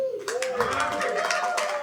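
Comedy club audience in Philadelphia breaks into applause and cheering, a steady dense wash of clapping with whoops and a raised voice riding over it throughout.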